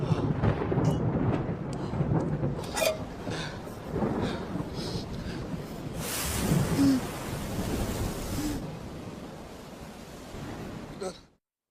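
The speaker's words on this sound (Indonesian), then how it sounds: "suara geluduk tersebut hanya menjatuhkan beberapa tetesan air saja" Thunder rumbles through a rainy storm, a long low roll that swells around the middle and then fades, over a steady hiss of rain before the sound cuts off abruptly.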